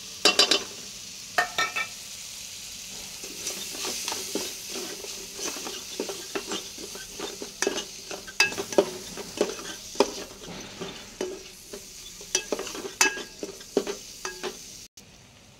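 Sweet corn with chili powder and turmeric is stirred in a pot for corn soup, giving a soft background sizzle with frequent irregular scraping and clinking strokes from the spoon, fairly quiet and close, with no talking.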